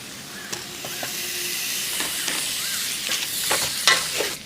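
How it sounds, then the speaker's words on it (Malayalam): Onions, green chillies and tomatoes sauté in a pan for a Kozhikode dum biryani, giving a steady close sizzle and hiss broken by scraping stirring strokes, with no talking. "ഉള്ളിയും തക്കാളി നല്ലപോലെ വഴൻ്റെ വന്നിട്ടുണ്ട്"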